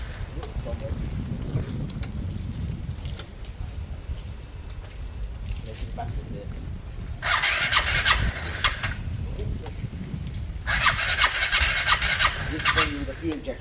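After an engine swap, a Piaggio Fly 125 scooter's electric starter is tried twice, each attempt a harsh cranking burst of a few seconds over low rumbling background noise.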